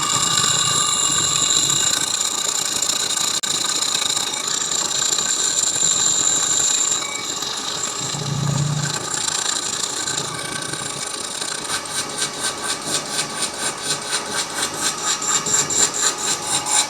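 A lathe turns down a welded metal part for a steam engine build, a steady mechanical whir with a faint high whine, a soft low thump midway, and a rhythmic ticking pulse toward the end.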